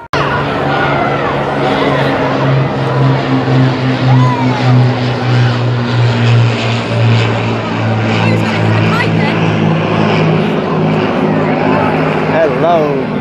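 An Avro Lancaster bomber flies low overhead at the St Anne's Kite Festival, heading to land at Blackpool. Its loud, steady, droning multi-engine propeller roar fills the air while people talk excitedly nearby.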